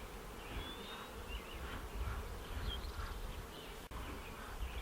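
Thousands of bees swarm around a hive, a continuous close buzzing with individual bees droning past, rising and falling slightly, and no talking.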